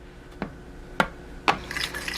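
Eggs beaten in a bowl for a veggie omelette, three separate sharp whisk taps against the bowl followed by quicker, softer clattering, close and with no talk.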